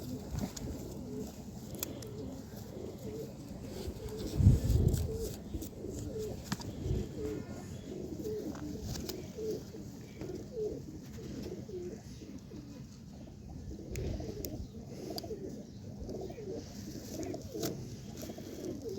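Domestic pigeons, kept and colour-marked by a Jammu pigeon fancier, coo softly in low repeated murmurs against a steady background hum, with a brief louder thump near the start.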